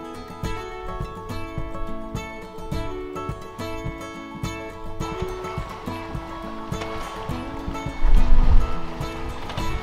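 Catamaran sailing downwind through smooth waves on a light-breeze day, with steady wash of water and wind against a layer of music, surging louder near the end.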